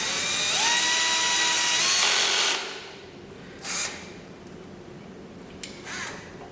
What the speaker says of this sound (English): You must tighten the screws.